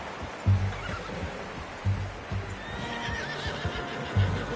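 Horse in Red Dead Redemption neighing and whinnying, with soft clip-clop of hooves recurring underneath at a moderate distance, no voices.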